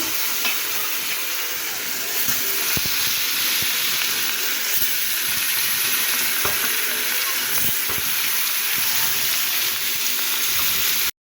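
Pangas fish rubbed with turmeric, salt and a little chili powder fries in hot oil, giving a loud, steady close sizzle with occasional sharp pops and clicks and no speech.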